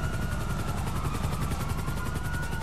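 A helicopter in the video game GTA 5 Online makes a loud, continuous rotor thudding with a steady, even chop and engine whine throughout, with no talking.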